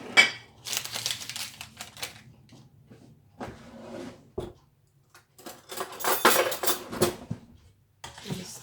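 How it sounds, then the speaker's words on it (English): A spoon stirs dessert mix into boiling water in a bowl, clinking and scraping in irregular bursts with short pauses between. "And stir it."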